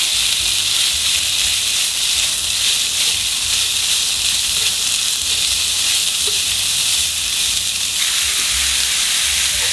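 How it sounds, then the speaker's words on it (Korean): Fish cake and shimeji mushrooms stir-fry on high heat in a pan, giving a loud, close, continuous sizzling hiss throughout with faint scraping of stirring underneath. "불은 센 불로 볶고 있고요"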